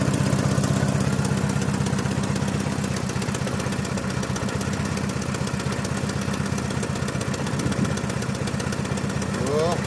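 A mini tractor's diesel engine, converted to run on LPG, idles close by with a continuous rough, knocking chug that holds steady throughout.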